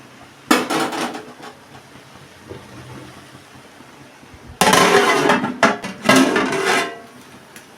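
A lid set down on a cooking pot while steaming Kerala-style aviyal, giving a sharp metallic clank at the start and then a louder burst of rattling clatters as it settles.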